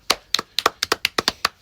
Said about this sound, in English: Can we get a applause for the things?